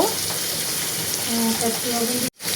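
Onions fry with garam masala in a pan, a steady close hiss and crackle throughout with faint tonal hum, cutting abruptly to near silence near the end.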